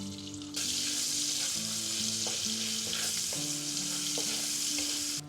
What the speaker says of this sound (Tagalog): Gigisa lang po tayo ng sibuyas at bawang.